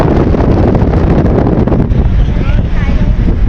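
Strong wind roaring across the deck of a STARHORSE SHIPPING passenger ship in port, a loud continuous rumbling buffet on the microphone that masks faint voices in the background.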